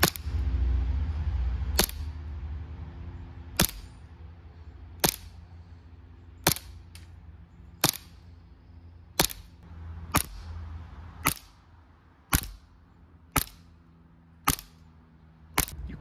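Gunshots from a firearm fitted with an oil can tracer unit crack out one at a time, about a dozen sharp reports spaced roughly a second apart and growing slightly quicker toward the end, with no talking.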